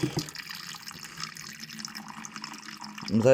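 Tap water runs in a steady, close rush while filling water for a pet rabbit, with a brief louder splash near the end.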